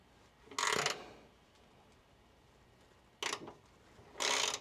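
Three bursts of ratcheting clicks come from a tool tightening the fuel filter hose on a 1992 Mazda Miata, close and crisp, separated by quiet gaps.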